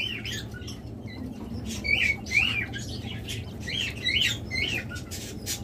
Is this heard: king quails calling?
yes